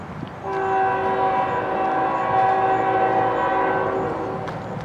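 A westbound train passes at Richmond, Michigan, its horn sounding a long, loud chord of several steady tones over the rumble of the rail cars. The horn holds for most of the passage and then fades slightly toward the end.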